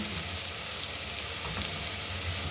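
Onions and spices stirred and frying in a pan, a steady close sizzle and crackle running unbroken throughout with faint scraping of the stirring.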